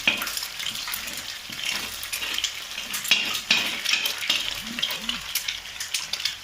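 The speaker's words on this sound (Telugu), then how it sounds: "దీన్ని ఎక్కువ కదిలించుకుంటూ ఒక లైట్గా వేయించుకోవాలి." Egg noodle ingredients are stirred and lightly fried in a pan, with a close sizzle, repeated utensil scrapes and clinks against the pan, and a few faint vocal sounds.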